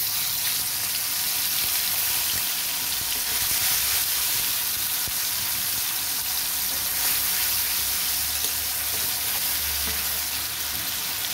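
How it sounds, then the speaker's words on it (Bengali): Tomato paste sizzles in hot oil over cumin seeds while a paneer curry with green peas is cooked, giving a steady, loud, close frying hiss with faint stirring scrapes and no talk throughout. "আমি এবার দিয়ে দেবো টমেটো পেস্ট।"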